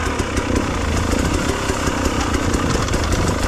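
A KTM TPI two-stroke motorcycle engine idles steadily and loudly close by, a continuous rough, even rumble with no speech.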